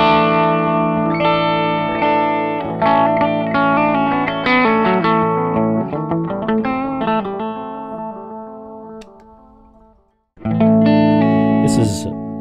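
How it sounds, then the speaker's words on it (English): Electric guitar on the neck pickup running through a delay pedal powered from a stomp box power supply, a melodic clean line with notes repeating and trailing off in echoes, a brief gap, then bright chords return. "Delay right here is also being powered by this Stomp Box, and this is what it sounds like."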